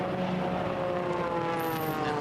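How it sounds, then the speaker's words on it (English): A race plane's engine at the Red Bull Air Race in Rotterdam, 2008, the British racing green aircraft, gives a steady, loud droning roar with a constant engine tone and no voices. "And that British racing green plane of Steve Jones, so easily recognisable."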